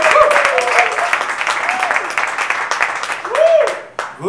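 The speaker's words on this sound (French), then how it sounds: "je vais vous demander de l'applaudir de façon déchaînée" Enthusiastic audience applause at a hip hop brunch event in Montreal, loud close clapping with cheering voices mixed in, dipping briefly near the end before resuming.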